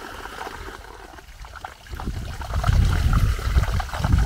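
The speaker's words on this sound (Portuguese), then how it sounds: "acho que realmente é só a água correndo que tá fazendo barulho" Water runs through an overgrown patch of land beside a vegetable garden, a steady trickling flow that grows louder and busier in the second half, heard close with no talking.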